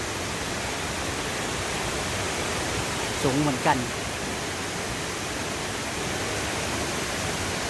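A waterfall viewed from a high hillside gives a steady, even rush of falling water throughout, with a brief spoken remark partway through.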